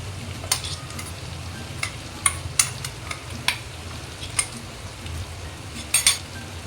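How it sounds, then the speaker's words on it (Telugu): Eggplant pieces frying in a pan are stirred with masala powder, a soft steady sizzle broken by a series of sharp spoon clinks and scrapes against the pan. "మసాలా అంతా ముక్కలకు పట్టేంత వరకు బాగా కలుపుకోవాలండి."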